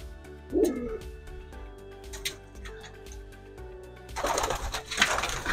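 Several racing pigeons coo softly in a repeating low rhythm, close by in a breeding loft, with a steady hum underneath and a burst of rustling near the end.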